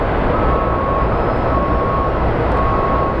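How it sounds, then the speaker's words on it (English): A Boeing 737-800 airliner arriving from Seattle at Phoenix Sky Harbor gives off a steady, loud broadband jet roar that holds evenly from start to finish, with no voices. "737-800 coming in from Seattle"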